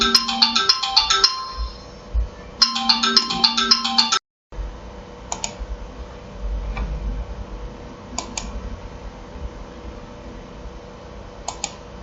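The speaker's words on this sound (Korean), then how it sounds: "전화가 와서" A telephone ringtone plays in two loud melodic bursts, then cuts off and gives way to quiet room noise with faint clicks.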